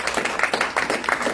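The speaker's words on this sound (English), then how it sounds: "round of applause for all of you" Applause from the audience at a Valentine's Day event, a short burst of dense, rhythmic clapping that swells in several pulses without any talking over it.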